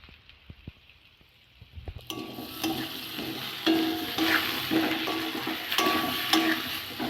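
Spices with turmeric, cumin powder and salt sauté in a pan for a shukto of sweet potato, bitter gourd, pumpkin and potato. A faint opening gives way after two seconds to a loud sizzle with repeated stirring scrapes.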